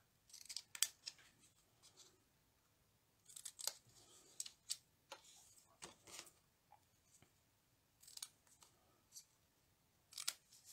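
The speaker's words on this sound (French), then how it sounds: "je vais venir couper les coins en biais" Scissors snip the corners off paper gift-box tabs at an angle, a series of sharp crisp cuts spaced out with quiet gaps between, faint and close.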